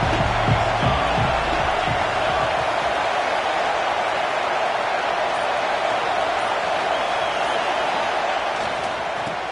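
A college football stadium crowd roars in a steady, dense wash of cheering that holds at high level throughout, with no distinct pauses.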